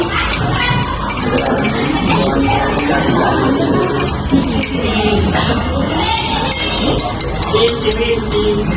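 A utensil stirs liquid in a glass for a volcano experiment, giving repeated light clinks against the glass throughout, close and clear.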